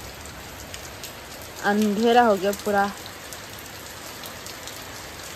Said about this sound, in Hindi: बारिश होए जा रहे हैं